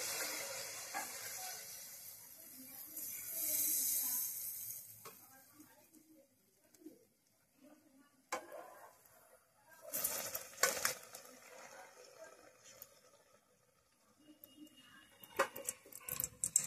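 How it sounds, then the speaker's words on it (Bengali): Palm fruit batter pitha fries in hot oil in a kadai with a continuous close hiss and sizzle that swells and fades, with occasional stirring clatter. "এখন কিন্তু আমি ভাজবো। কড়াইয়ে তেল দিয়ে দিয়েছিলাম আগেই"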